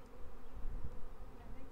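Dense, steady buzzing of many honey bees swarming around hive frames pulled out during an inspection, close and continuous with low rumbling handling bumps underneath.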